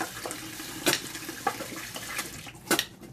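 A dye tool swished and rinsed in a small cup of water, with faint irregular splashes and clinks against the cup over a quiet room.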